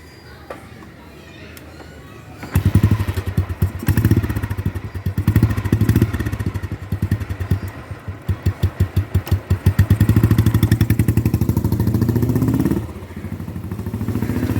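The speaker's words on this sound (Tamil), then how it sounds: "ஸோ அடுத்த வண்டி 1997 மாடல் ஸ்டாண்டர்ட் புல்லட்டை டெஸ்ட் ட்ரைவ் பார்க்கலாம்." A 1997 Royal Enfield Bullet Standard single-cylinder motorcycle engine starts after a quiet moment, then thumps in a steady loping idle with a few revs, close and loud.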